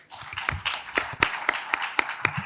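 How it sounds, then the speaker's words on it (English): A few people clap in a sparse, uneven round of applause, sharp claps spaced through the moment rather than a full ovation, at a talk on Gen Z consumers. "This is the first recorded instance of me getting a round of applause without asking for it."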